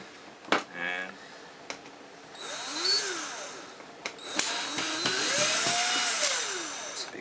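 A power drill drives screws out of a computer monitor in short whirring bursts, its pitch rising and falling as it spins up and slows, with clicks and handling noises between runs.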